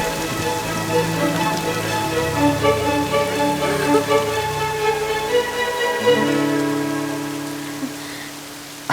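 Steady rain falling on a surface, a dense close hiss of drops spattering continuously, loud and unbroken with a faint tonal background underneath, and no voices.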